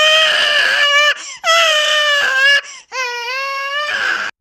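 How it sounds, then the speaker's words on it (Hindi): A baby cries loudly in three long, wailing bursts separated by brief gasping pauses, close and piercing. "उनके रोने की आवाज पूरे घर में गूंजने लगी"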